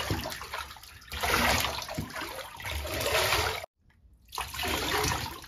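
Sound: running water for giving a Basenji dog a bath

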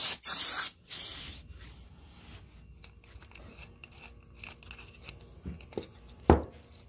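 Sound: spraying parts washer cleaner on a motorcycle oil level sensor

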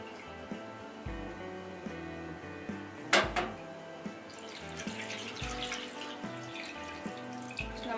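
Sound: washing kudhiraivali millet in water

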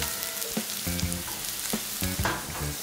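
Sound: stir-frying tossed bell peppers and spring onion

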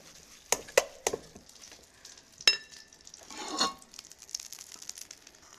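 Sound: frying chicken meatballs in a pan

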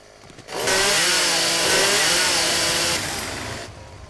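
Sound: chainsaw running in video game 7 Days to Die

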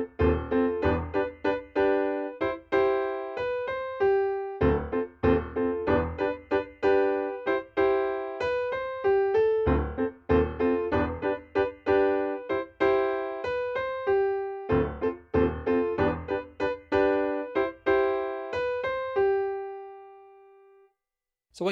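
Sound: piano playing intro of a song

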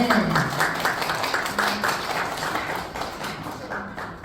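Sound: audience applause at award ceremony

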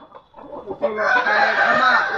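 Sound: fighting rooster crowing

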